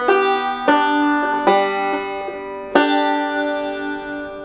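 Picked string instrument playing the opening of Cripple Creek, including a hammer-on, several bright plucked notes ringing on with sustained tones, close and clear, no talking.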